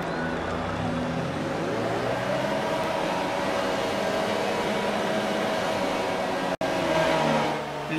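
Formula 1 cars on the Shanghai starting grid in the F1 2019 game make a layered, steady engine drone with rising whines from several cars, loud and continuous, with one brief cut near the end.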